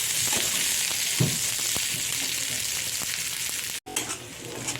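Onion with ginger-garlic paste fries steadily in a pan, a dense continuous sizzle with occasional stirring scrapes and a brief break near the end, no voices.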